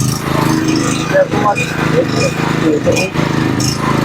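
A 2.8 kW petrol generator that has not run for a long time chugs steadily nearby with a rough, rattling engine drone while someone talks over it.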